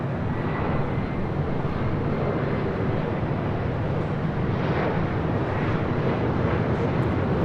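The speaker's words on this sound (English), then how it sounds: "This E-Jet is coming in from Jackson." A United Express Embraer E175 regional jet, nine years old, arrives at LAX, its engines a loud, continuous broad rumble and whine with no breaks.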